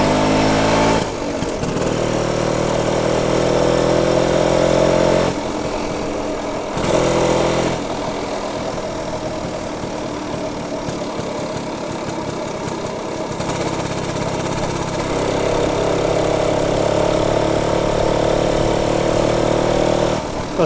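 A BSA Bantam 175 motorcycle engine runs steadily while riding through a busy housing estate, a loud continuous drone with small shifts in pitch and a couple of brief dips where the throttle eases before it picks up again.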